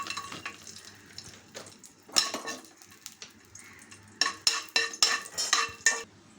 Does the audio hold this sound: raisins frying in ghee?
yes